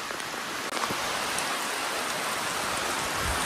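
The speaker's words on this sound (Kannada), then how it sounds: "ಜೋರು ಮಳೆ" Heavy rain pours down in a dense, loud, unbroken roar of falling water with no voices over it.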